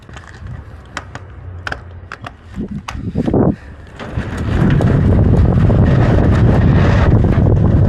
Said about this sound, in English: I can hear the wind really good in my helmet